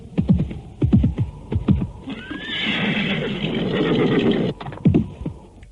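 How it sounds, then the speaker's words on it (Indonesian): A horse being ridden closer across grassland, with loud, close whinnies at the start and end around a stretch of steady rushing noise, likely from hooves or wind. "dari arah Bukit Kurawan muncul kuda yang lain. Kuda itu terus dipacu makin dekat."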